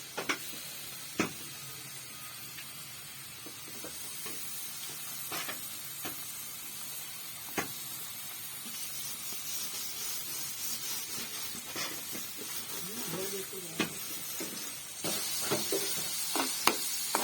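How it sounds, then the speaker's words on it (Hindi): Chopped onion fries in ghee in a pan, giving a steady, soft sizzle and hiss with occasional louder crackles and stirring clinks. It stays fairly faint throughout and grows a little louder toward the end, with no talk. "सबसे पहले हम डालेंगे प्याज,"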